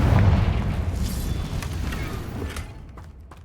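Confringo blasting spell explosion in Hogwarts Legacy: a deep booming blast that opens loud and slowly decays into a rumbling tail, with faint crackles through it and no voices.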